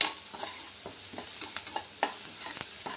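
Onions frying with crushed garlic in a pan for a dahi bhindi sabzi, a soft steady sizzle broken by faint scrapes and light clicks of a spoon stirring, with no talking.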